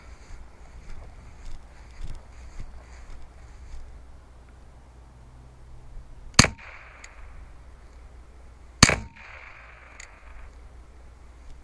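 Two sharp, loud cracks of .22 Short rounds fired from a Remington Speedmaster rifle at about ten yards, a couple of seconds apart, over quiet outdoor background.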